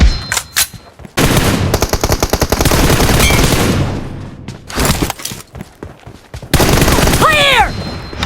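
Bursts of automatic gunfire in PUBG, loud and close, come in rapid rattling volleys separated by short pauses, with a few single shots and faint voice callouts mixed in.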